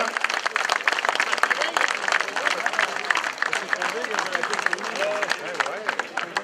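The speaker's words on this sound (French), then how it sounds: "Vos applaudissements donc, Aurélien Daniel." A crowd at a Breton cycling race finish claps steadily throughout, sustained applause with dense rapid hand claps, fairly close and lively.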